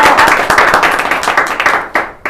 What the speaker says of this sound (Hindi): जोरदार तालियों के साथ में इनका स्वागत किया जाएगा